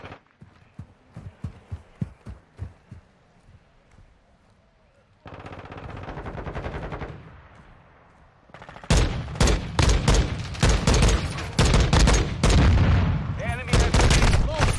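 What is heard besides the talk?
gunfire in video game Call of Duty Modern Warfare 2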